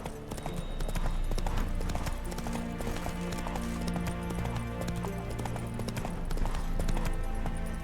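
Roach the horse galloping in The Witcher 3, with rapid rhythmic hoofbeats drumming steadily under loud game music and ambience.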